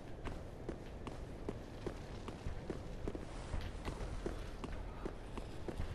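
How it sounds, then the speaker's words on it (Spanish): Heavy footsteps in Dark Souls 3, thudding in a steady, regular rhythm throughout at moderate loudness over a dull ambient rumble, with no talking. "Escuchando pisadas fuertes."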